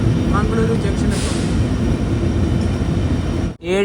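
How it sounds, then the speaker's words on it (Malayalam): Poorna Express rumbles into Mangaluru Junction, a loud steady rolling roar of the train close by that cuts off abruptly near the end, with a voice heard briefly. "ട്രെയിൻ ഇതാ മംഗളൂരു ജംഗ്ഷനിലേക്ക് എത്തിയിരിക്കുകയാണ്"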